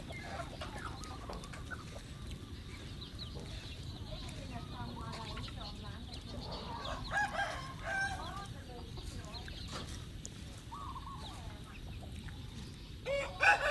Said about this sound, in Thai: เพาะไก่จริงๆนะครับตรงเนี้ย